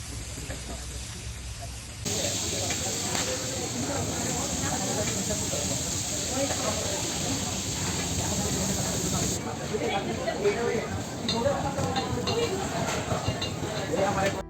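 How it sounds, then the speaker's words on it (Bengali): Eggplant slices sizzle in hot oil alongside hilsa fish at a riverside restaurant at Mawa Ghat, a steady loud frying hiss throughout with restaurant chatter and voices in the background. "আমরা আটটি বেগুন বাজিও অর্ডার করি যা আমাদের সামনেই মাছের সাথে বাজা হচ্ছে"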